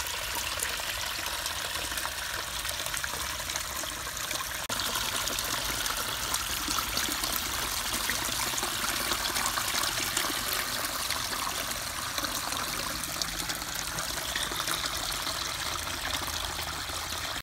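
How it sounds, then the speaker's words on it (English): Water trickles and splashes steadily over a small creek waterfall, a constant close rushing wash with no pauses and no voices. "We have a little waterfall"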